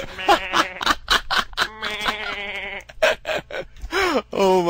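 A person imitating a sheep, a string of nasal, wavering bleats in quick bursts, close and fairly loud, with short gaps and a final rising bleat.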